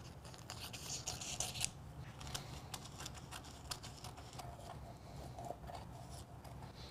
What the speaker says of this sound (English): I'm gonna kind of trim up the parts we don't want